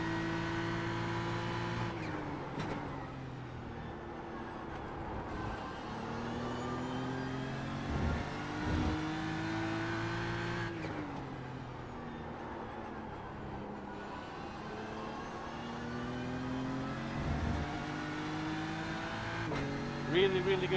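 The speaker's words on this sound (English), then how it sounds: "There's a group of faster cars bearing down on you." GT3 race cars lap Watkins Glen in a racing video game, engines revving hard through repeated upshifts and gear changes, with a close, loud, continuous whine and talk over the top.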